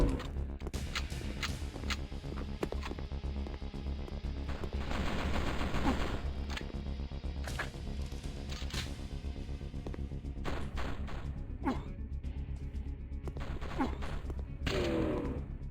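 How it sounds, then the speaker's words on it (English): Shotgun blasts in a PS1 demo disc video game, a series of sharp booming shots spread through the stretch over a low droning game soundtrack, with no talk. "That shotgun sound is fine."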